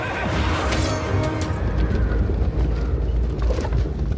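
A horse whinnies loudly and repeatedly over a dense, continuous rumble of hoofbeats, like a mount charging into an ancient battle, with no voices.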